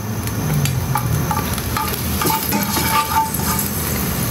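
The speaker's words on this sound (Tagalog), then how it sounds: "Lulutuin ko yung garlic muna." Garlic fries in a pan with a steady, close sizzle and crackle, along with occasional scrapes and clinks of a utensil stirring through it.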